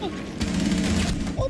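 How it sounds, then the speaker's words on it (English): Gunfire in the video game Rainbow Six Siege, a rapid, dense burst of shots that grows loud partway through, with a player's voice talking over it. "fuck is Kali shooting from"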